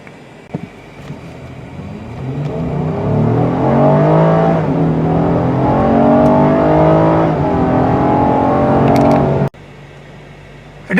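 A 2018/2019 Acura MDX Hybrid accelerates in hot weather, its engine note rising steadily in pitch as it pulls hard for several seconds before cutting out abruptly near the end, heard close with no talking.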